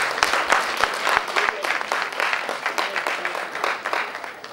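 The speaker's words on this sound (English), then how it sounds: "Give it to him a round of applause." An audience applauds a speaker at a formal event, dense sustained clapping from a crowd that fades gradually over several seconds.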